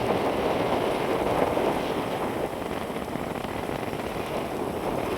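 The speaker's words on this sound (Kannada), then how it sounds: "ಸಕ್ಕತ್ ಮಳೆ ಬರ್ತದೆ, ಸೋನೆ ಮಳೆ, ಜೋರು ಮಳೆ ಎಲ್ಲ ಮಾತ್ರ" Steady rain falls in a Coorg forest, a dense, even hiss of drops on leaves and surfaces that holds unbroken throughout with no voices.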